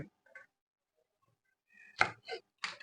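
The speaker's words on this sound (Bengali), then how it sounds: "এই যে এভাবে পিস করে ছোটো ছোটো পিস করে কাটছি" A knife chops okra into small pieces on a board: three sharp, close chops in quick succession after a near-silent stretch with a few faint kitchen noises.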